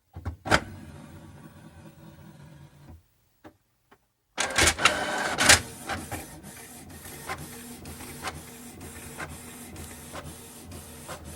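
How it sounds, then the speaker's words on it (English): An inkjet-style desktop printer feeds and prints an index card, starting with a short mechanical whir, a pause with isolated clicks, then a burst of feed noise followed by a steady run of rhythmic carriage passes and clicks, close and fairly quiet. "click print, and then it'll print out your thing"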